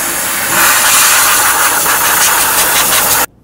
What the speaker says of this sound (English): we want to make sure that we blow off any of the dirt or debris that's in this area.